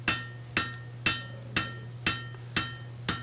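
A hand hammer strikes hot steel on an anvil while forging a fireplace tool handle, seven sharp ringing blows at a steady, even pace of about two per second over a low hum.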